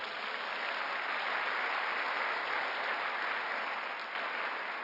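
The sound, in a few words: congregation applauding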